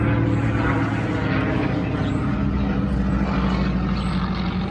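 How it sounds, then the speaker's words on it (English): A Supermarine Spitfire's Merlin engine drones loudly and steadily overhead, roaring continuously with a deep throbbing hum and no break throughout. "And that noise you hear there, that's a Merlin engine. That is a Spitfire"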